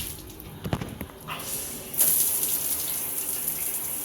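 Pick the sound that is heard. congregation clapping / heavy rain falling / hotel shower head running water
hotel shower head running water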